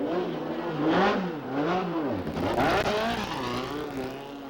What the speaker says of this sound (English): He and Forbes Robinson are still skating around the track on slick tires.